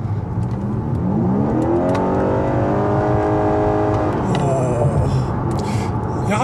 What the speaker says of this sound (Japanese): やはりね、エンジン音がね、聞こえてくるような感じがしますね。